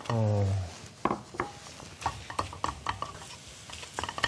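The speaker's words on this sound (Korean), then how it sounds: "밥이랑 또 이렇게 섞어주고 계시네요." Rice being stir-fried with scrambled egg in a pan for shrimp fried rice, with a spatula scraping and tossing in a steady series of close clacks and light sizzle. A brief voice-like tone is heard at the start.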